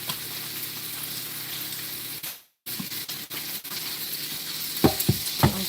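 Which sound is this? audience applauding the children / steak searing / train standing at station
steak searing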